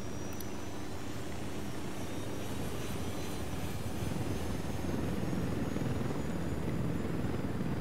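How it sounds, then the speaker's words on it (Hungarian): A helicopter in the Ghost Recon Wildlands video game thrums steadily, its rotor and engine drone loud and continuous, growing slightly stronger toward the end with no talking over it. "Hát van egy helikopter."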